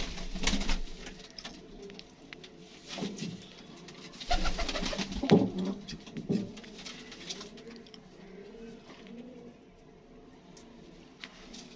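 Wild-breed pigeons fitted with silver rings coo softly nearby, with low throaty calls scattered across the clip amid faint rustling and background ambience.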